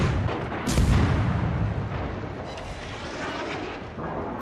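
A loud, deep explosive boom followed by continuous rumbling blasts of distant artillery-like fire in a ship-combat video game.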